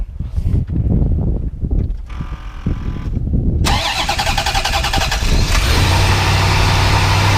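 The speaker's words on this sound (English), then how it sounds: "We'll go ahead and fire it up here for you real fast." A 1992 Chevrolet Corvette ZR1 with a 375 hp engine cranks briefly, catches and settles into a loud, steady idle, heard close with a dense, even rumble and no talking.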